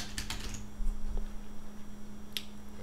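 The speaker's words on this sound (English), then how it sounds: "type dresses" Fingers type on a computer keyboard in a quiet room, a few quick bursts of soft clicks followed by a single later keystroke over a steady low electrical hum.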